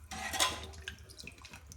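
Water poured into horse gram saaru in a cooking pot, a brief splashing pour that swells and fades, followed by faint drips and small clinks.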